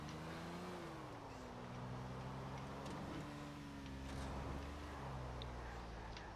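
A Moskvich 412 car driving in Grand Theft Auto IV, its steady engine hum with shifting pitch running continuously, fairly close, with a faint voice briefly in the background.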